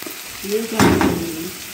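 Masala fish sizzling in a hot kadai as it is stirred and mixed with a spoon, a loud close fry that swells with the stirring while a brief tonal voice sound rises over it.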